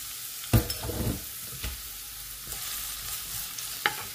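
Chopped onions hit hot oil in a pan for a savory snack, giving a soft continuous sizzle punctuated by a few sharp stirring clatters of a utensil near the start and end.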